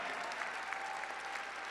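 Audience at a charity fundraising gala clapping: steady, sustained applause from a sizable crowd with a faint murmur of voices beneath.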